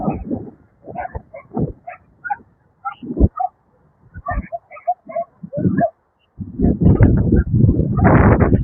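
A dog near homes in a seaside informal settlement in Bacoor, Cavite, gives a run of short, sharp barks and yips in irregular bursts, followed by a louder, noisier stretch near the end.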